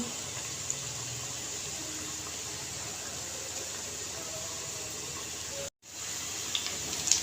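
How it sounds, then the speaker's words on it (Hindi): Beef pakoras frying in a pan of oil, giving a faint, steady hiss throughout with a brief dropout near the end, no voices. "पकौड़े हमारे फ्राई हो रहे हैं"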